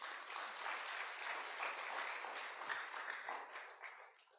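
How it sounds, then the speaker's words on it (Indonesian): Church congregation clapping during a sermon, a dense, even round of applause at moderate volume that holds steady and tapers slightly at the end. "Tepuk tangan lagi."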